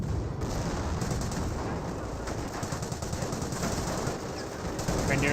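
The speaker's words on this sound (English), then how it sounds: "Grenadiers seem to fire there." Grenadiers open up in a Company of Heroes battle, a dense, continuous crackle of rifle and machine-gun fire with booming artillery mixed in, steady and loud for the whole stretch.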